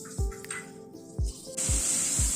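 Chopped tomatoes land in a hot pan with cashews and green chillies, setting off a loud, bright sizzling hiss. A few dull knocks of a utensil against the pan sound before and during it.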